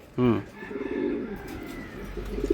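Racing pigeons coo close by, several soft throaty bursts in a low rhythmic warble over steady background hiss, with a person speaking at moments in the room.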